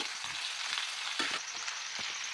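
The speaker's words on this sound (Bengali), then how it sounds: "ভালো করে একটু নাড়াচাড়া করে নেবো। ক্যাপসিকাম পেঁয়াজ টমেটো একসঙ্গে দিয়ে দিয়েছি।" Capsicum, onion and tomato fry together in a pan with a steady, bright sizzle, broken by several scraping stirs of a spoon through the vegetables.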